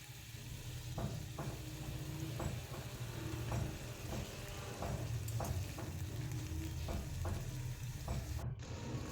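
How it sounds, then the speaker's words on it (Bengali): Onion and garlic paste sizzles steadily in mustard oil, with a low continuous fry broken by periodic scraping strokes of a spoon against the pan. "পেঁয়াজটা হালকা ভাজা হয়ে যেতে আমি দিয়ে দিলাম রসুন বাটা।"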